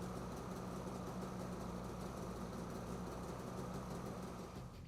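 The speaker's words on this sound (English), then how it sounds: "Finally, start the engine to ensure proper operation." A Polaris off-road vehicle engine, a 2018-2021 XCR, idles steadily nearby, a low continuous rumble with a faint rhythmic knock, dipping slightly at the very end.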